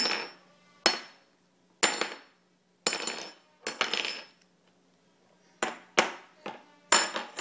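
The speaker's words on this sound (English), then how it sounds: "We are playing with spoons, aren't we?" A baby bangs metal spoons together, making a run of sharp, ringing metallic clinks in uneven bursts, with short silences between strikes, close and fairly loud.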